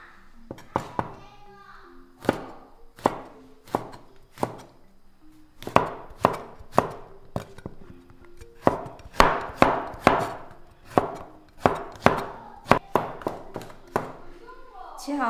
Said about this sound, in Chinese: 我准备茄子切丝， 先切片再成丝。